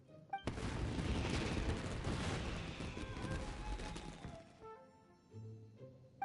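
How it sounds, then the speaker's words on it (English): Dense crackling barrage of fireworks going off in Genshin Impact, a continuous roar of rapid pops and booms for several seconds that then cuts off, leaving a faint tonal game sound. "Yoimiya, this is turning into a bit of a fireworks display."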